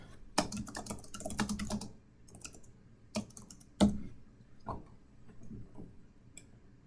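Bursts of typing on a computer keyboard, quick clusters of light key clicks separated by short pauses, close and fairly quiet, with no voices.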